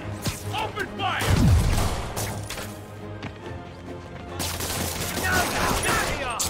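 Video game gunfire from enemies in Spider-Man PS4, a loud clattering burst of shots and crashing impacts across several seconds, mixed with combat noise and a voice.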